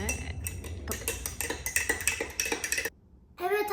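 Dish soap bubble mixture made with blue dishwashing liquid is stirred in a container, giving a run of clinking, scraping strokes against the sides for several seconds before a brief pause and a final burst.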